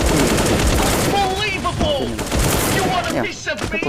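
Loud, rapid gunfire from a shooting video game, with fast bursts and rattling automatic fire running almost nonstop over a short stretch, close and dense.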